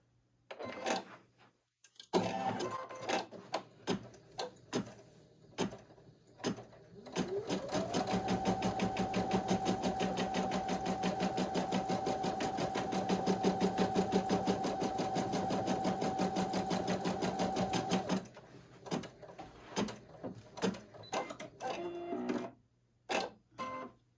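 An embroidery machine stitches a design in brown thread, its rapid needle clatter starting and stopping in short bursts, then a sustained run with a steady motor hum before it slows into intermittent stitching again.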